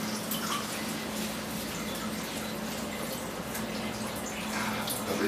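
Running water splashes steadily while vegetables such as a waxy cucumber are washed in Kangen water at a sink, a continuous close, even rush with faint drips and no speech.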